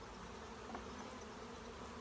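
Honeybees buzz steadily at a hive during a split, a dense continuous drone of many wings held at an even level throughout, fairly faint and close, with no talking.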